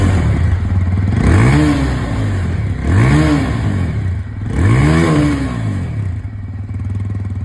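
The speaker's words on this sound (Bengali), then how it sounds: "এবার আপনাদেরকে আমি এখানে অ্যাপাচে 180-র আওয়াজটা শুনিয়ে দিই।" A TVS Apache 180 motorcycle exhaust close by, idling steadily between three sharp throttle blips that rise and fall, loud throughout with no talking.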